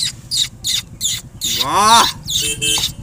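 A voice imitates baby birds chirping, giving a quick run of high, thin rising chirps followed by a longer warbling call, with a brief spoken exclamation of approval afterward.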